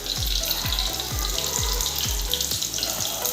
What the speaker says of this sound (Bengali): ফুল ভাজি করছি